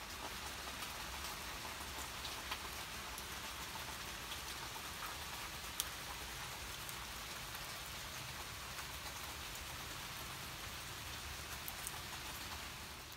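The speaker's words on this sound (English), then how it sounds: "Let me show you how bad it's raining right now." Heavy rain pours steadily outside on a dark morning, a dense, even hiss of drops that holds constant and loud throughout, with no voices over it.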